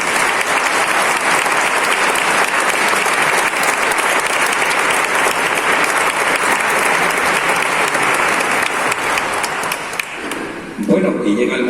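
An audience applauds a choir at an award event in Valladolid, a loud, sustained wash of clapping from a large crowd that fades near the end as a voice begins to speak.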